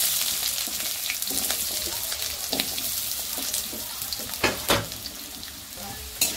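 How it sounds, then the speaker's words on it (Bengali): Diced potatoes fry in hot oil, browning until reddish, with a close, steady sizzle broken by sharp crackles and stirring scrapes near the end. "আলুটা কিন্তু আমি লাল লাল করে ভেজে নেব।"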